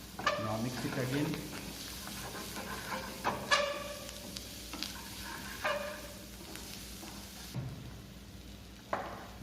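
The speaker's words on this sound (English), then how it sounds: "Now mix it again." Seasoned chicken stirred in a hot pan with salt and black pepper, a steady sizzle broken by a few sharp utensil scrapes and clinks, with a person talking over it.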